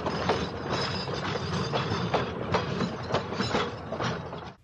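A steam engine chugs steadily out of a yard with rhythmic mechanical clanks and hissing, rolling along close by before cutting off abruptly.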